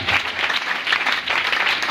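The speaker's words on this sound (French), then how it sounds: "Donne une acclamation, s'il te plaît." Worshippers in a church service clap together in acclaim of the Lord, a steady, moderately loud wash of many hands in pulsing waves.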